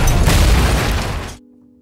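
A shot-down helicopter crashing in a film, heard as a loud, dense roaring boom of impact and debris that fades abruptly into near silence with a low hum.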